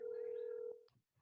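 A phone rings during a town board video meeting, a single steady electronic tone held for most of a second before it cuts off, followed by faint room noise.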